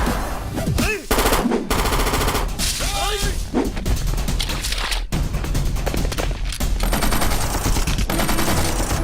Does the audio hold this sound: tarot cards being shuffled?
no